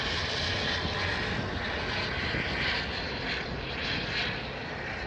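An Embraer 175 jet operated by SkyWest passes at Phoenix Sky Harbor airport, a steady broad engine roar at moderate distance that holds evenly throughout.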